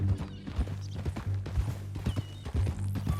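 A horse's hooves clip-clop in steady rhythm in Red Dead Redemption 2, close by, with a low musical score underneath.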